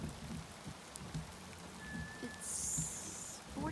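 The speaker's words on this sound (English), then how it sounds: "there is some form of ice falling from the sky. We're not sure what. Looks like a combination of hail and snow." Mix of hail and snow falling outdoors in Idaho in June: a constant soft patter of icy pellets on surfaces, fairly faint and steady, with a few slightly louder taps and no talking.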